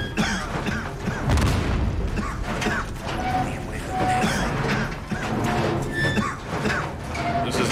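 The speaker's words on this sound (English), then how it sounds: "Oh, it's a nade." A grenade blast and its rumbling aftermath in the Call of Duty: Modern Warfare (2019) campaign, a dense, continuous wash of booms, creaking debris and mechanical clatter, loud and steady throughout.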